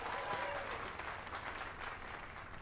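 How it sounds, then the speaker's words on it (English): A crowd in the video game Dragon's Dogma 2 claps in sustained applause, a dense even patter of many hands throughout, fairly quiet and without voices standing out. "Let us give a round of applause for young Fulvio"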